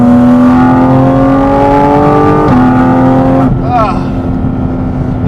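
Porsche Cayman GT4 RS engine howling under hard acceleration on the road, a loud, close, rising wail that dips briefly at a gear change and again near the end while the rising pitch continues, with a voice talking over part of it.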